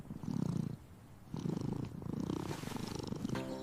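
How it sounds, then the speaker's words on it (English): Fluffy cat purring up close, a soft rumbling purr in two stretches separated by a short quieter break, faint and steady throughout. "This is a fluffy cat."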